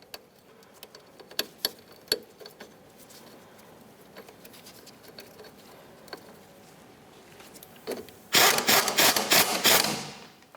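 Ratchet wrench snugging a strut mounting bolt on a 2004-2006 Scion xB, scattered metallic clicks at first, then a fast loud run of ratcheting near the end, close and with no voices.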